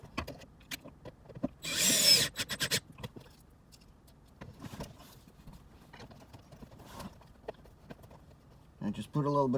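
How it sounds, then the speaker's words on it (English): A power driver runs screws back into a 2018 Camaro SS suede console lid armrest, one strong buzzing whir followed by scattered clicks and handling taps, with quiet talk near the end. "5 screws going right back inside."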